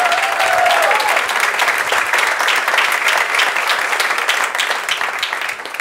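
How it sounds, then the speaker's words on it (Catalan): A live audience at a literary talk show in Solsona breaks into dense, sustained applause, many hands clapping together in a loud, even wash that holds for several seconds and tapers slightly at the end. "un aplaudiment per aquesta felicitat"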